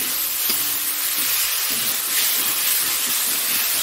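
Cauliflower frying in a pan, a steady close hiss and sizzle with a couple of brief stirring scrapes, loud and continuous throughout with no talking.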